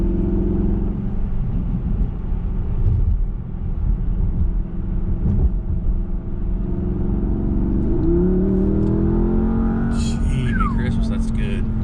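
2019 Porsche Panamera Turbo engine on the move, a steady low burble that builds as the turbo spools up with a rising whine near the end, people talking over it.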